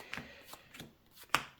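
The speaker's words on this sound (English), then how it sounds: "shuffling up the deck." Yu-Gi-Oh! trading cards shuffled by hand as a deck, a few quiet riffling bursts spaced out over a moment, close and soft with no talking.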